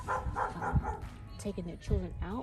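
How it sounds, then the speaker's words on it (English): A dog barks in a neighbor's yard beside a garden, sounding in a quick series of barks and yips. The barking is mixed under a person talking close by. "My neighbor just let his dog out"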